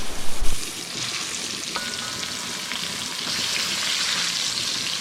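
Pieces of fish drop into hot oil with garlic and ginger, a brief thump and burst at the start giving way to a steady, close, bright sizzle that holds without letup.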